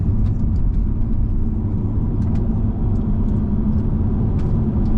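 A Mercedes CLS320 engine runs after an intercooler repair, a loud steady low rumble and whir from inside the moving car, continuous with faint ticking on top.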